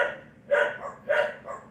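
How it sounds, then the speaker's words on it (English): A dog barks three times in a loose, even rhythm, each bark sharp and fairly close, with short gaps between and no voices. "They need to be barked at."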